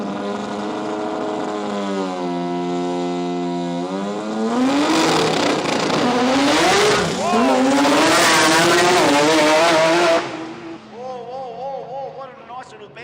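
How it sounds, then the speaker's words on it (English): A radial drag racing car at Willowbank Raceway in Australia launches hard with its engine revving and the tyre spinning, a loud roaring pass that rises and falls before fading, with announcer commentary over it. "It did blow the tyre off at 130 in the 60, but he caught it pretty decently"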